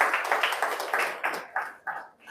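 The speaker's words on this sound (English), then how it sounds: "Please let's clap for her." An audience at a business talk claps in a short burst of brisk, fairly close applause that thins out and fades toward the end.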